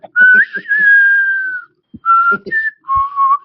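Someone whistles clearly and loudly in a series of sustained, slightly wavering tones with short breaks between phrases. Soft clicks and taps sit underneath.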